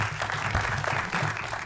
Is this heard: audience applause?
yes